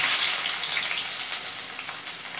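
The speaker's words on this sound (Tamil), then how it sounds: "வெந்தயம் வடித்தவொடனே வெங்காயத்தை போட்டுக்கணும்." Onions sizzle in hot oil with fenugreek for fish curry in a loud, steady hiss that fades slightly toward the end, with no voices.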